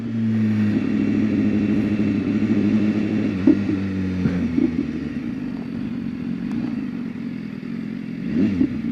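A BMW S1000RR motorcycle engine drones steadily as it accelerates, its tone shifting between held pitches with small clatters, loud and close throughout.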